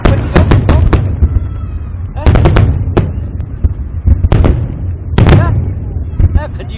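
Loud firecrackers go off in sharp bursts. They crack in quick clusters of several bangs with short pauses between, and people talk in the background.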